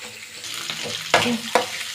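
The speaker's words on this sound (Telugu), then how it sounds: "ఆనియన్స్ వేగింది చాలండి" Onions and green chillies frying in oil in a pan for a flat beans and potato curry, with a steady close sizzle and two brief louder crackling bursts as they are stirred.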